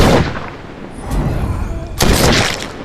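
A handgun fires in The Walking Dead: Saints & Sinners, two loud, close shots with sharp booming reports about two seconds apart, each trailing off in a rumbling echo.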